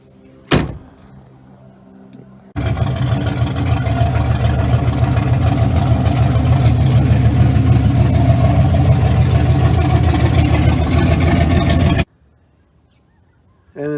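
A 1983 Chevy Camaro Z28 hot rod with a bored-out engine, headers, 750 carburetor and high-performance cam idles loudly and steadily up close for about nine seconds, framed by a brief click before and silence after.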